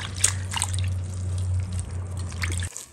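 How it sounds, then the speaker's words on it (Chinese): Leafy greens are washed by hand under running water, a soft close trickle and splashing with scattered drips and rustles over a low steady hum, ending abruptly. "我们好好的洗一洗"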